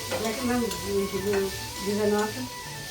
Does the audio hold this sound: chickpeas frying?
yes